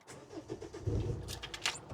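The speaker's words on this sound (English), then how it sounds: "Just going to start my engine." A car engine cranks and catches in an outdoor setting, a starter whir followed by a low rumbling idle, close and moderately loud with a faint jingle of keys.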